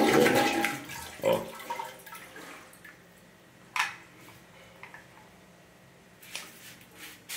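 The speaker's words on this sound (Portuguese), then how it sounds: "Para você dar descarga, ó, tá vendo? Dá descarga." A toilet in a rented condominium house in Maragogi flushes close by, a gush of rushing water that tapers into trickles and drips, with brief clunks from the bathroom.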